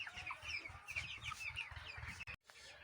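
A flock of 35-day-old broiler chicks in a small poultry farm clucks constantly, with many close, overlapping soft calls and chirps layered over one another and no voices.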